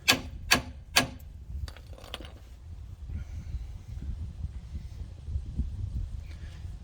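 A nut is spun off a threaded steering bump stop bolt on a vehicle, opening with three sharp metallic clicks, then a steady close scraping rasp of the threads that runs on at even loudness, with no talking.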